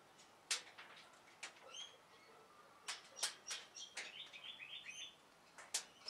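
Native birds chirp and trill outside a workshop, a scattering of short, bright calls at varying distances, some quick warbling runs, fairly faint against a quiet background with no talking.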